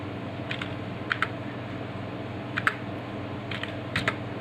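A computer keyboard is tapped close by in a few separate pairs of clicks with short pauses between them, over a low steady room hum and without talk.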